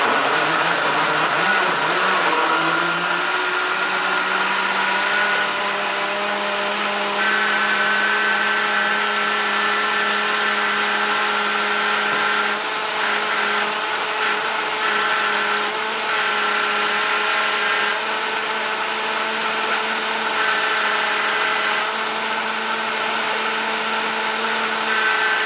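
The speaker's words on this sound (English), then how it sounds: "So I'm just using a small blender today." A small blender whirs steadily for the whole stretch, its motor pitch rising briefly at the start and then holding as it purees mango, loud and close.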